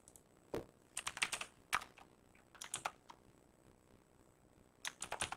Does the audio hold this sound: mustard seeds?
no